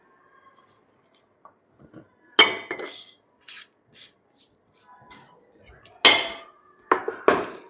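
Ingredients mixed with a utensil in a cooking pan, sharp irregular metallic clanks and scrapes, some louder knocks standing out, with faint voice traces in the quieter gaps.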